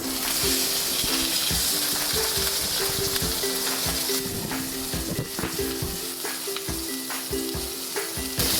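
A duck breast, magret de canard, frying skin-side in its own rendered fat in a pan, giving a steady loud sizzle and crackle with scattered pops and a few clinks of utensils.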